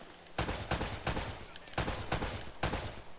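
Gunfire in the video game Uncharted 1 comes in five or six sharp, loud bursts at roughly half-second intervals, each a sudden crack with a short decaying tail.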